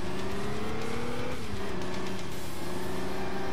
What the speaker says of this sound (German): Auch wenn der Motorsound nicht jedermanns Sache ist